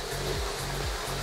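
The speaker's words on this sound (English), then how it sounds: "This is an old pool filter from one of those cheap in-tech pools, and I got a vacuum hose attached to the end of it," An old pool filter pump from a cheap above-ground pool, with a vacuum hose on its end, drones steadily and loudly as it sucks water, a constant rushing whir with a faint pulsing throb underneath and no talking.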